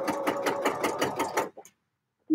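A sewing machine stitches dark green lining fabric for a tartan wool coat with a quick, even run of about eight rhythmic pulses, then stops abruptly and goes quiet.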